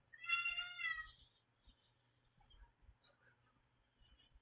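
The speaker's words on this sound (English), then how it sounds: "My cat is making noise." A house cat meows once, clearly and fairly close, in a drawn-out call, followed by faint soft shuffling noises in an otherwise quiet room.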